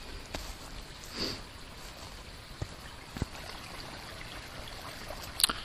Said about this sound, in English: And there's the river there as well.